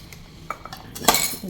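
A small spoon knocking against the little bowls of a heavy, good-quality spice storage set, giving a few light clinks and then one brighter metallic chime with a short ring, close by.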